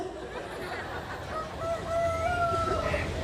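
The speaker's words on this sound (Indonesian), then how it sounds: "Itu suara ayam beneran atau handphone?" A rooster crows in the background, its faint rising call drawn out over a murmur of voices and room noise.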